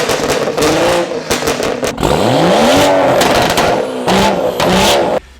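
A tuned BMW F30 340 revving, with a deep exhaust note rising and falling across several throttle blips and bursts of crackling burbles between them, loud and close before cutting off abruptly.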